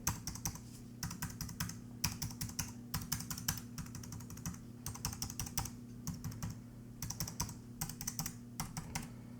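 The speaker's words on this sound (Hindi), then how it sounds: "इन बड़े बटन्स को दबाने पे थोड़ी ज्यादा आवाज आती है।" Big keys on a Logitech Pop Icon keyboard are pressed in quick clustered bursts, each key giving a sharp, fairly loud close clack, the groups separated by short pauses over a faint steady hum.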